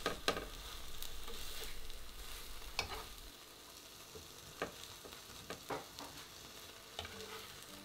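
A buckwheat galette cooks in butter in a pan, giving a steady soft sizzle with occasional scraping clicks and taps from a utensil, close and fairly quiet, with no talking.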